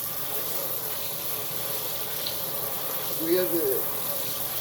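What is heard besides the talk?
rinsing melon seeds in a strainer under running water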